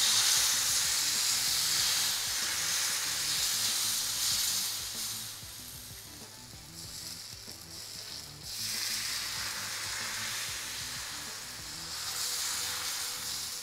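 Thin sorghum-flour amboli batter sizzles on a very hot griddle over a high flame. A loud, steady frying hiss runs throughout, easing a little midway and then swelling again, with no voices.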